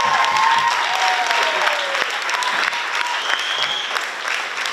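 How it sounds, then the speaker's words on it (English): At a 12th grade commencement ceremony, a large audience claps loudly and continuously, with occasional whistles and cheers over the steady applause, which eases slightly toward the end. "Let's give them a round of applause."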